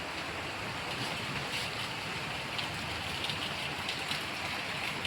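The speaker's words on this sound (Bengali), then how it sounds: "আর দেখুন এপাশে কি বৃষ্টি হচ্ছে।" Rain falling outside a house beside a mango tree on a rainy day, a steady dense hiss and patter at moderate level throughout, with no talk.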